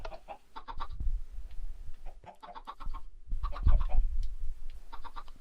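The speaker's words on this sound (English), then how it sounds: "I have magic chickens growing in here." Minecraft chickens cluck in short repeated bursts, a few birds overlapping, with low rumbling thumps underneath; no one speaks.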